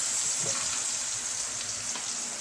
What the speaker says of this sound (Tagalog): Ngayon, lagyan natin ng butter ang pan.